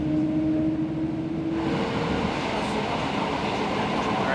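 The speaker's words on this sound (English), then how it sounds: "Today's train ride's gonna be pretty short." Continuous rumbling and rattling of a train in motion through Poland, heard from inside a carriage as a loud, steady roar with a tonal hum that fades partway through, no clear speech.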